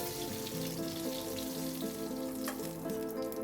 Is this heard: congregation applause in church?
no